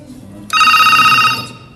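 A desk telephone on a PABX system with a GSM module rings on every extension at once, one loud, bright electronic ring burst of about a second against a quiet room.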